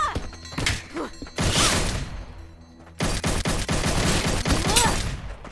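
Bursts of gunshots from firearms in the VR game Blade and Sorcery: a few sharp shots, a short lull, then rapid repeated firing that stays loud and close.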